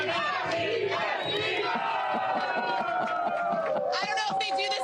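A crowd of Philadelphia Eagles fans in Montgomery County cheers and chants loudly, a dense wall of whoops and yells with rhythmic shouts rising toward the end.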